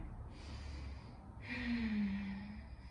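During an exercise session, a breath is drawn in and then let out in a long, audible exhale, close and moderately soft.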